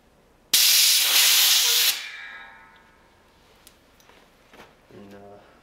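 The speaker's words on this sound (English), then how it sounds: "Take an air blower and just kind of stick it under there as best you can." An air blower pushed under the hand grip of a 1975 Moto Guzzi T3 lets out a loud burst of hissing air for over a second, then falls off into quieter clicks and a voice.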